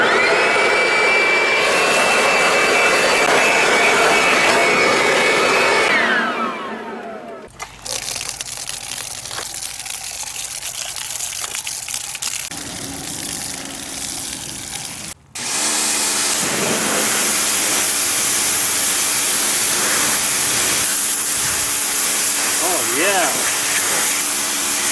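A pressure washer sprays down deck steps with a loud, steady hiss, cutting out and restarting partway through, the spray pitch shifting as the nozzle moves across the wood.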